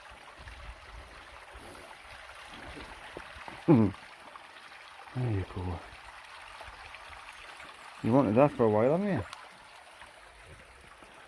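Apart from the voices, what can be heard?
small waterfall in Dipton Woods, Northumberland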